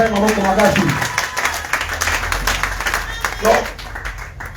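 A church congregation claps and cheers in praise over a preacher's voice, with a dense, steady patter of hands running under the speech throughout.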